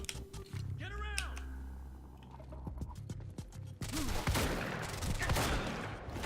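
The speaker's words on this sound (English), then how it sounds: "semi-auto shotgun" A semi-auto shotgun firing in the video game Quantum Break, punchy booming shots spaced out amid mechanical clicks and game noise, with a voice talking over part of it.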